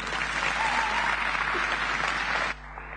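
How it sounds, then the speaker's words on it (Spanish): Audience applause at an anniversary celebration of a farmers' association, steady dense clapping from a crowd that cuts off abruptly near the end, leaving a quieter background. "Fuerte el aplauso"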